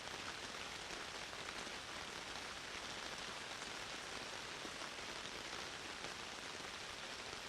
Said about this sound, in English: The soft sounds of raindrops are soothing, helping your muscles to melt downwards.